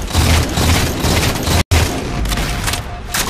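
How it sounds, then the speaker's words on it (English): Grenades explode in a Halo 4 capture-the-flag match, loud booming blasts mixed with rapid gunfire, broken by a brief cut of silence midway, with no talk. "I took some nades over there to stop Shook pushing the flag"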